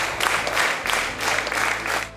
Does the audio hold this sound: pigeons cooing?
no